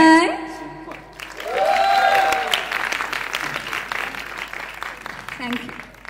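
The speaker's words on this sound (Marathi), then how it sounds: "जोरदार टाळ्या झाल्या पाहिजे" Audience applause swells and holds at a film trailer launch event, a crowd clapping steadily after music fades, with a voice briefly audible over the clapping.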